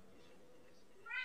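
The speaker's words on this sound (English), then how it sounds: "C for cat" A short, faint meow rises at the end after a moment of quiet room noise.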